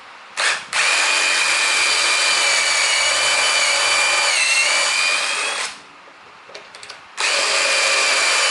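A power drill bores pocket holes in wood for a dining room server, a loud, sustained high whine with grinding bite for several seconds, a brief stop, then the drill spins up again close by.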